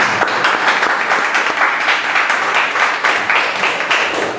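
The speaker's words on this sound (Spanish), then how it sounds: "Dele un aplauso al Señor" A church congregation breaks into sustained, dense applause honoring the Lord during a Spanish-language sermon, steady clapping from many hands filling the room for several seconds with no talk over it.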